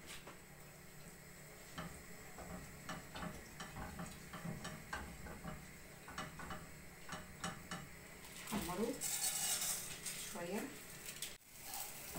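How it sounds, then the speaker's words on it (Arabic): Rice fries in ghee in a pot, a faint sizzle under a spoon's repeated scraping and stirring clicks, while a person talks nearby. "كده حمرنا الرز خلاص"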